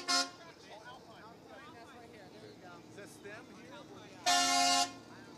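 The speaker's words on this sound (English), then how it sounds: "Okay, that's a loud horn." A truck horn blares twice during a Christmas electric lights parade, a short blast at the start and a longer loud one near the end, with people talking in between against crowd background.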